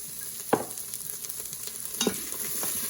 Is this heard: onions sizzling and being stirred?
yes